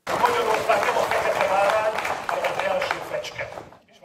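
A standing audience in Zurich applauds the Hungarian prime minister with dense, sustained clapping that fades out at the end, with some voices mixed in.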